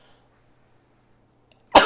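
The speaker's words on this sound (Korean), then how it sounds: "기침이 계속 나네요" A single sharp cough bursts out near the end, loud and close, after nearly two seconds of quiet room hum; it comes during a lesson in an air-conditioned room.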